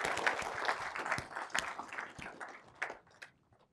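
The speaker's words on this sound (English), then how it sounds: "Another round of applause for yourselves." Faculty and staff at a college dean's annual address applaud themselves: a faint, scattered round of clapping from a room audience that thins out and fades away toward the end.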